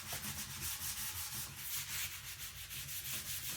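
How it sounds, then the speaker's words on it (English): A wood cabinet is sanded by hand to break up its finish before staining, a steady close scratchy rubbing with even back-and-forth strokes, alone without talk. "I'm going to sand it again just to get it going here"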